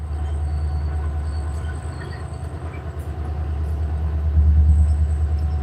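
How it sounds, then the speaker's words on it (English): A train passes nearby a riverside fishing spot, a steady low rumble of wheels and cars that swells louder toward the end, heard alone without talk. "Train."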